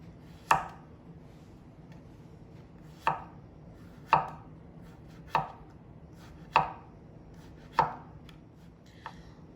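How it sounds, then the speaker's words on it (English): Knife slicing zucchini into thin rounds on a cutting board, six or seven crisp, evenly spaced chops close up with quiet pauses between, no voices. "So I'm going to slice up my zucchini into thin little rounds,"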